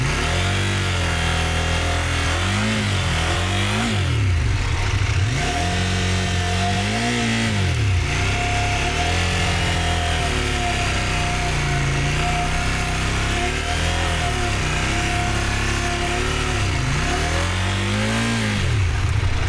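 A small motorcycle engine revs on a mountain outing in Agrafa, Greece, its pitch repeatedly rising and falling in loud, close surges with a steady whine and no talk.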